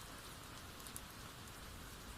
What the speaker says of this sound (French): le doux tambourinement de la pluie